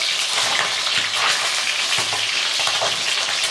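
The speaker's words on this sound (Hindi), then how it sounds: "ये देखिए कितनी अच्छी फ्राई हो रही" Fish pieces for fish karahi fry in hot oil in a pan, giving a loud, dense, steady sizzle with small crackles and occasional soft clinks.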